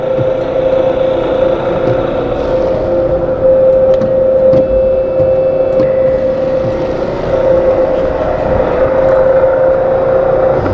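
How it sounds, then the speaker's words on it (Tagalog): Engine running at a steady idle while warming up, a loud continuous hum with a constant tone and a few small clicks and knocks over the top. "Start na natin yung makina para uminit na."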